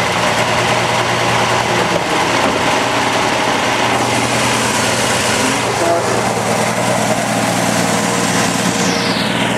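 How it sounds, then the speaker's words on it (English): An American Motors inline-six engine in a 1964 Rambler American 440 idles loudly and steadily nearby, a constant mechanical drone, with a person talking over it. "There's the inline six American Motors engine."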